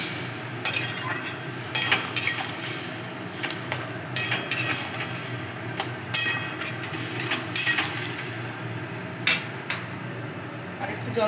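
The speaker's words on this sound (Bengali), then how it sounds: "সবটা ভালোভাবে মিশিয়ে নিতে হবে।" A spoon stirs curry with spice paste and water in a pan, giving repeated sharp clanks and scrapes against the metal over a soft bubbling sizzle, close and intermittent.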